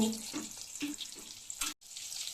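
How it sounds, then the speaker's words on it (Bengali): Boiled eggs frying in hot oil with turmeric and salt, a close crackling sizzle with a few stirring knocks and a brief break near the end. "এবার ওই গরম তেলের মধ্যে সিদ্ধ করে রাখা ডিমগুলো প্রথমে ভেজে নেব।"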